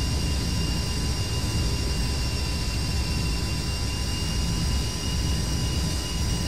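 Jet aircraft engine taxiing in the DCS flight simulator game, a loud, continuous whining roar with a steady high-pitched tone, constant throughout with no voices.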